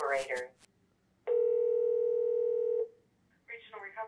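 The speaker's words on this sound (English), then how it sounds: "Check out this phone call." A steady telephone dial tone sounds alone for about a second and a half during a phone call, with speech just before and a voice beginning again afterward.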